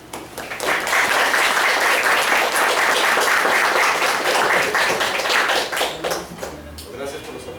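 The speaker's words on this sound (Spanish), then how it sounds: "Gracias por los aplausos." Applause from a lecture audience welcoming a physics professor swells quickly into a broad wash of many hands clapping, holds loud for several seconds, then thins and fades out near the end.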